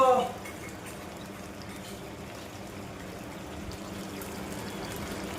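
A pot of chicken simmers and bubbles on the stove, giving a steady, soft, watery hiss. The sound runs evenly throughout after a brief louder burst at the start.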